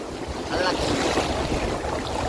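Sea waves wash in at Mandarmani beach, a steady broadband roar of surf mixed with wind buffeting the microphone, continuous and fairly loud throughout.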